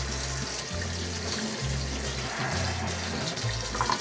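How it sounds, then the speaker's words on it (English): Water from a kitchen tap runs steadily over a knife being rinsed, a continuous close splashing stream with a faint rhythmic pulsing underneath and no speech. "Rinse it off."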